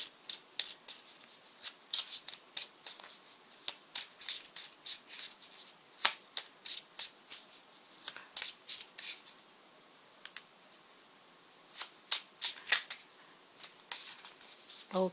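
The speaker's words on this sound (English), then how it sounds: "let me shuffle them well" Tarot cards being shuffled by hand, a run of quick, crisp riffling and slapping bursts in an irregular rhythm, close and fairly quiet, with a short pause midway.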